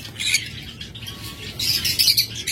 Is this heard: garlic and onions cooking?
no